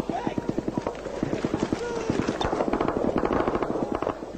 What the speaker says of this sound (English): We are pinned down as the incoming bullets kick up the rock and the sand all around us.